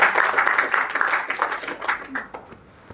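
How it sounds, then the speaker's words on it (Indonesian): Congregation clapping at a Sunday church service, a rhythmic patter of hands that rises and falls in waves and fades out near the end, with voices faintly mixed in. "Tepuk tangan untuk Yesus"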